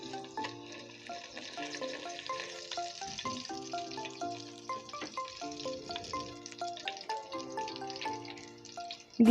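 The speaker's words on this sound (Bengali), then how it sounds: "মশলাগুলোকে ভেজে নেব।" Whole spices fry in hot oil for a Bengali hilsa pulao, a steady soft sizzle running throughout beneath a prominent melodic instrumental tune, with no talking.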